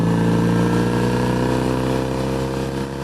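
Engine of a classic motorbike on a run down Loch Ness, a loud, close, steady harmonic drone that holds a rich throb with only slight easing near the end.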